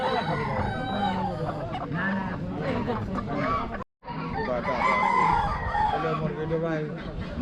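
Chickens cluck and crow loudly close up at a village poultry market, a dense overlapping chorus of squawks and calls with people talking among them.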